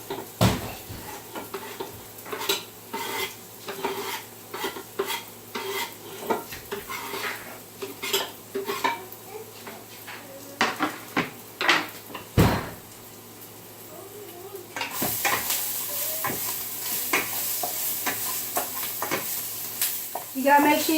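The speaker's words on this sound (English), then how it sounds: "And then I'm going to add my onions up in here." Garlic and onions sauté in a pan, with repeated sharp utensil clinks and scraping over a steady sizzle, the frying growing louder and hissier toward the end.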